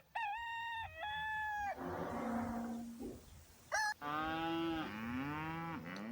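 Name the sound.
cow mooing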